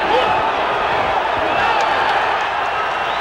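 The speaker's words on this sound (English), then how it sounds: "Crowd yells. That was a slip. Crowd thought it was a knockdown." A boxing arena crowd roaring at an apparent knockdown during Ray Leonard versus Floyd Mayweather Sr., a dense continuous wash of yelling voices, loud and sustained for the whole stretch.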